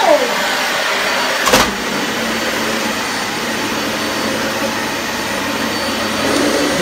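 A 2017 Dyson Light Ball Animal vacuum cleaner runs close by with a loud, steady airy whine and rushing hum, holding even throughout with a brief bump near the start.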